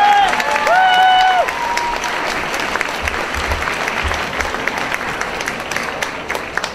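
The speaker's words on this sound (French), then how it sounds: "Allez, vous pouvez les applaudir une dernière fois bien fort." A cosplay event audience gives a final burst of loud applause, which gradually thins to scattered clapping while a voice speaks over the start.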